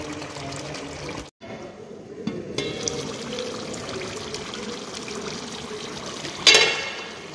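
Water pours steadily in a continuous trickling stream, fairly close, with a brief gap and a sharper splash near the end.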